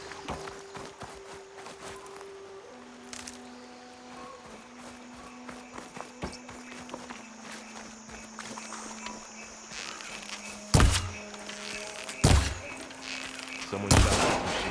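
Gunfire aimed at a machine in Horizon Forbidden West: three sharp, loud bangs late on, spaced about 1.5 seconds apart, over a steady bed of tonal game music and ambience.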